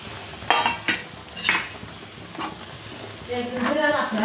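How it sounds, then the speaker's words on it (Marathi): Semolina being stirred and fried in hot ghee, with a soft sizzle under intermittent scraping and clinking of a spoon against the pan, a few sharp stirring strokes, and a person talking over it. "तूप पण तापलेलं आहे आपलं तर आपण याच्यामध्ये आहे ना आता रवा टाकून घेऊया"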